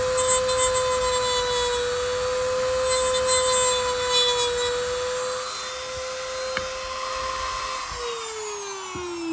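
Dremel rotary tool enlarging a slit hole, giving a steady, loud high-pitched whine with grinding texture that holds throughout and drops in pitch as the tool slows near the end.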